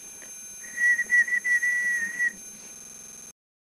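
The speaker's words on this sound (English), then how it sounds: "Put your lips together tight and whistle." A person whistles with pursed lips during a cranial nerve exam, a thin high steady whistle broken into a few short bursts over a faint hiss, close and alone without speech.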